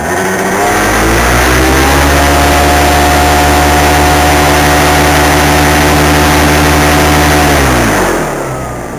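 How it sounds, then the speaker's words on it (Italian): A paramotor engine runs up during a ground test, a loud, steady buzzing drone with a rising pitch that holds high for several seconds, then winds down at the end. "proviamo il motore."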